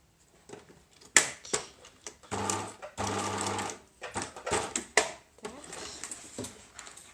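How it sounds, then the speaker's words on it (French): Sewing machine stitching a bicycle frame bag in short stop-start bursts, several brief runs of close, fast stitching separated by pauses and clicks. "Les machines à coudre sont parfois capricieuses."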